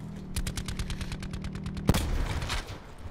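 A sharp sniper rifle shot cracks out in Call of Duty Blackout, loud and sudden, after a run of steady rapid clicking or distant automatic fire, with a brief rattling tail.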